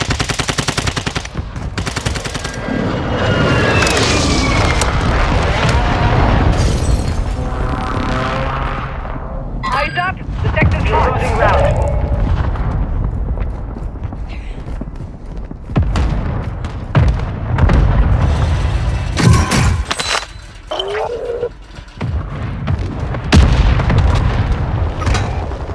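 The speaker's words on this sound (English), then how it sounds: "Airstrike inbound." Video-game battle audio from Call of Duty: Warzone 2.0 on Ashika Island: loud bursts of machine-gun fire and heavy booming blasts from an airstrike, mixed with game radio voices, recurring in irregular bursts throughout.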